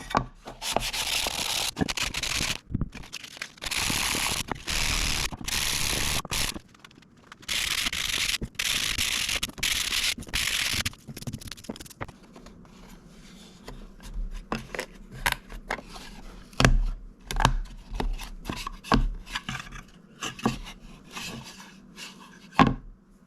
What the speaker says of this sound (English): I'm going to use 120 grit sandpaper just to knock off any rough edges and smooth out the box